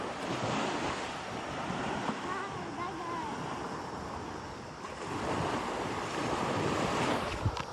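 Surf rolls onto the beach at Jomalig Island in Quezon in a continuous broad wash that swells and eases, with gusts of wind buffeting the microphone.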